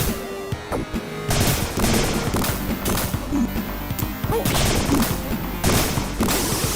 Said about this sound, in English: There's a bunch of guns and cannons.